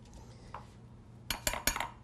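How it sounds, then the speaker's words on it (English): A spoon knocks against the side of a pot of simmering soup, a few quiet clinks followed by three sharp metallic clanks close together near the end. "Give it a stir and lower it down just a hair"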